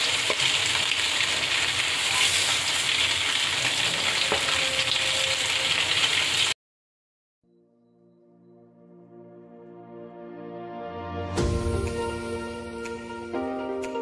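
Katla fish frying in hot oil in a home kitchen gives a loud, dense sizzle for several seconds, then cuts to silence before a soft, rising sizzle builds again with a sharp crackling burst near the end.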